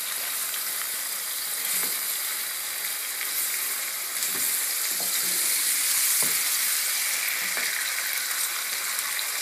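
Sliced mushrooms and stuffing ingredients sauté steadily in a hot pan, a continuous close sizzle with occasional stirring scrapes and no voices.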